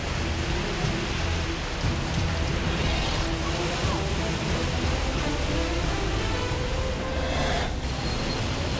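Heavy rain pours down outdoors in a steady, dense hiss with occasional heavier spatters, loud and unbroken throughout.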